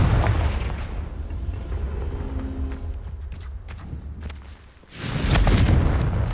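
In the Hogwarts Legacy video game, the Confringo fire spell bursts in deep, booming blasts, with a rumble that fades and then a fresh loud explosion near the end.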